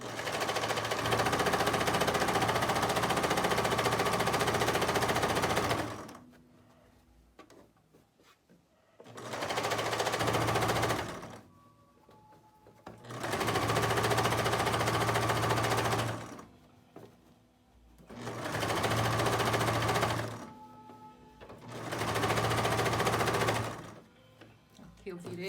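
Sewing machine stitching a bathroom set, running in long loud bursts of rapid needle chatter and motor whir, each several seconds long and separated by short quiet pauses with faint handling noises.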